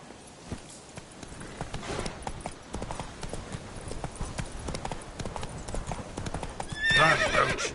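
The horse Roach galloping in The Witcher 3: a fast, steady clip-clop of hooves, close and loud, ending in a sharp whinny.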